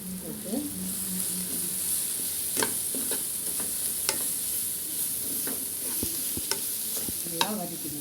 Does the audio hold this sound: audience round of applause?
no